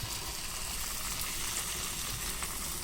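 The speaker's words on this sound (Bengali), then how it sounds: "বেসনে ব্যাটারে লাগিয়ে নিয়ে তেলে ভেজে নিচ্ছি" Potato chops coated in gram flour batter fry in oil, giving a steady, even sizzle throughout at moderate loudness.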